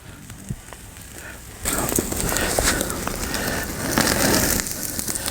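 A tomahawk ribeye sears over hot coals on a PK grill, a steady crackling sizzle that swells loudly partway through and keeps hissing close by.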